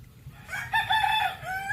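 A rooster crows once, a drawn-out cock-a-doodle-doo at moderate distance, over a low background hum with no talking.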